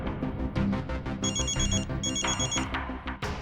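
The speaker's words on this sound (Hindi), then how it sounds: "मेरे फोन करने पर अलग तरह की रिंग बजी?" A phone ringing with a bright, melodic electronic ringtone that repeats in short tonal phrases over a busy musical background, fairly loud and close.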